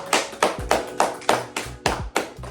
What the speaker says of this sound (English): so let's give Janae a hand clap